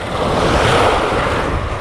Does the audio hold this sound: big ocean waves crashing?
yes